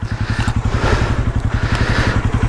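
A Falcon Freedom 250 motorcycle, started after sitting unused for a long time, runs with a loud, close, rapid even engine pulse and a clattery single-cylinder thump throughout.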